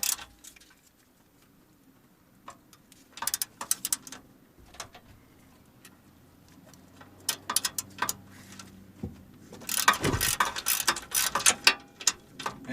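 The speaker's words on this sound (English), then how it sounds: "So right now, I'm gonna loosen these two bolts." A socket ratchet loosens frame bolts on a 2007 Chevy Suburban, with scattered clicks and short bursts of ratcheting that build into a dense, steady clicking run toward the end.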